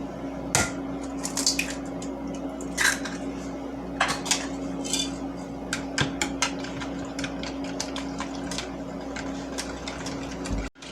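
Butter and an egg are beaten together in a bowl for homemade pancakes, giving rapid irregular clinks and scrapes of a utensil against the bowl, close and continuous, with no talking.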